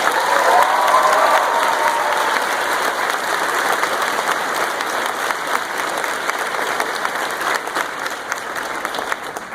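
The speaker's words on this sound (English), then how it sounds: "Can we have a huge round of applause for the whole staff team?" Audience at a high school graduation ceremony bursts into sustained applause and cheering for the school staff, a dense, continuous wash of clapping that holds steady throughout, with a brief voice at the start.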